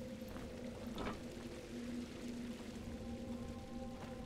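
A waterfall in a dungeon of the video game Grimrock 2 gives a steady, broadband rushing wash of falling water with a low droning hum beneath, continuous and moderately distant, with no talk.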